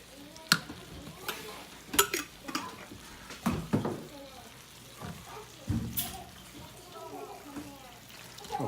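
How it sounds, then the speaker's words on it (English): Spoon scraping the last salsa from a jar in a home kitchen while making quesadillas, a run of short scraping and clinking strokes over a faint sizzle from the pan, with a voice talking between them. "I'm going to actually just scrape out the rest of the salsa from the jar"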